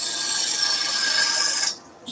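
A bowl gouge cutting wood on a lathe for table skittles, a continuous close, bright scraping hiss that stops abruptly near the end before briefly resuming.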